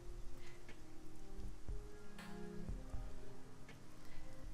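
Steady rainfall from the game Shadowrun: Hong Kong, a dense pattering of drops with occasional louder taps and ticks, continuous over a low background hum and without speech.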